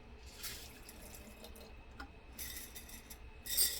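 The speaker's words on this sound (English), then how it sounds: "So I'm just going to go ahead and rinse this." A kitchen tap runs as a container is rinsed under it, giving soft splashing and trickling with a few louder gushes near the end, close and fairly quiet.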